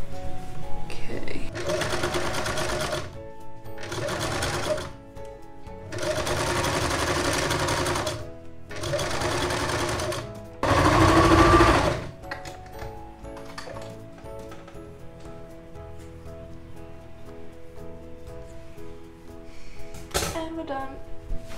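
A sewing machine running in several loud, close bursts of rapid stitching with short pauses as the final stitch of a pair of Christmas pajamas is sewn, then quieter handling and a voice afterward.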